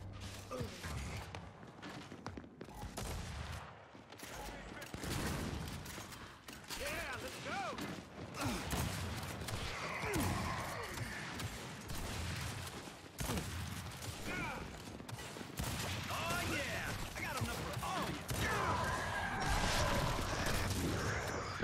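Gunfire rattles in the multiplayer shooter Gears 5, with intermittent bursts, thumps and mechanical clanks spread across a busy match, mixed with game sound and a voice talking over it.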